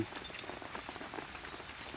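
Light drizzling rain patters softly and steadily on surfaces, a faint, even scatter of tiny drops.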